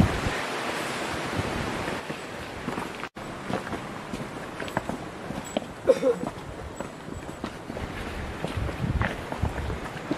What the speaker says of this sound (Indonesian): Suara air terjun